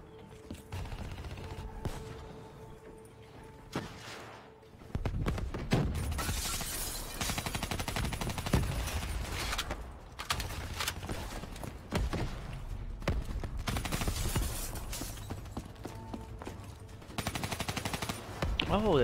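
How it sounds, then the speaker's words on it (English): Machine gun fire in Call of Duty Black Ops 3 during the Vengeance mission: long sustained automatic bursts, loud and harsh, rattling on and off with brief pauses between volleys. "Oh, there's a machine gun."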